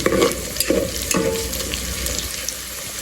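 Onions and spices fry in a rice cooker pot, a steady moderate sizzle with a few louder stirring scrapes and clatters near the start.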